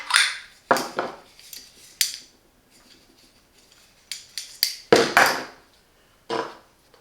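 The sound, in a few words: handling BEEM espresso machine portafilter and accessories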